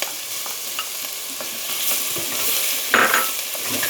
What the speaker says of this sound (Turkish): Soğanımla, soğanımla biberim şöyle kavruldu. Şimdi domatesini katayım.